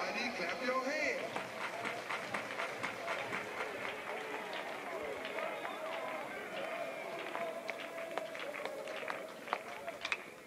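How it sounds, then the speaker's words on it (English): Crowd at a college baseball game, Duke against Wake Forest, claps steadily in rhythm, a dense sustained patter of many hands with crowd noise and a commentator's voice over it. "Everybody clap your hands."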